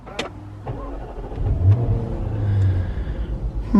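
A 2020 Jaguar F-Type R starts up nearby: a whir and click, then a deep engine rumble that builds and settles into a throbbing idle.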